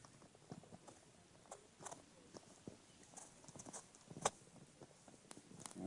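A horse walks slowly, its hooves clip-clopping in an irregular rhythm at moderate distance, fairly faint, with occasional soft rustles and no talking.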